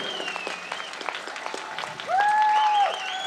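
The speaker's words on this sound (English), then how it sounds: "Let us give a very big applause." An audience at a pyramid music meditation festival applauds after a two-hour musical performance; dense clapping fills the clip, with a brief tonal whistle or voice rising over it partway through.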